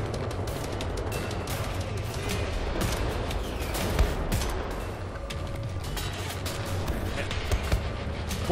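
Continuous gunfire and explosive bursts from the World War II shooter game Wolfenstein: The New Order, a dense steady battle din with a few sharper cracks standing out near the end.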